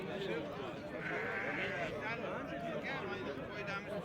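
Lambs bleating repeatedly at a busy livestock market, several calls overlapping close by amid crowd noise and people talking.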